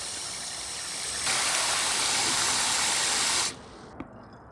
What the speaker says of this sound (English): You hear it trickling down?